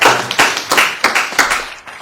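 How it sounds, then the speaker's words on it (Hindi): Audience clapping for a poet at a Hindi poetry recital, loud and close, with a handful of distinct bursts of claps in an uneven rhythm over about two seconds. "जोरदार तालियां"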